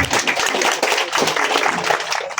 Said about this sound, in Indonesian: Boleh berikan aplaus yang luar biasa